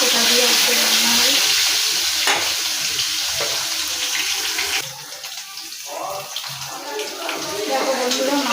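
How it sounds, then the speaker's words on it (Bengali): Pieces of fish that had been kept in the fridge fry in hot oil, a loud, constant crackling sizzle with sputtering bursts, easing briefly midway before swelling again, with no talk over it. "তেল গরম হয়ে গেছে। মাছগুলো দিয়ে দিই"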